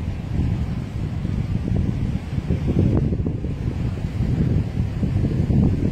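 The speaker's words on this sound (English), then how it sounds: "It is so very, very windy, very, very windy here." Strong outdoor wind buffets a microphone in a continuous, loud, low rumbling roar with gusty surges and no clear voices.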